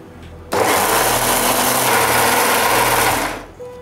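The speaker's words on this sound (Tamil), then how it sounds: "மிக்ஸியில் போட்டு பிளெண்ட் பண்ணி அந்த பியூரி நல்ல பியூரியாக" A mixer grinder blends a warm cooked mixture into a puree for Jodhpuri gulab jamun sabji gravy, starting abruptly into a loud, high whirring roar that holds for about three seconds before winding down.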